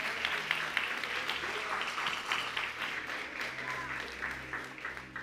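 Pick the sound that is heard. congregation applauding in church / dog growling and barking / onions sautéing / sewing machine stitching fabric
congregation applauding in church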